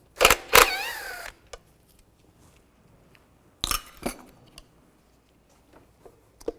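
Metal screws being taken out of a cover on a 2007-2013 Mini Cooper thermostat housing assembly with a T30 socket. Close clinks and ratchety bursts come in two short clusters, with faint ticks between them and no talk.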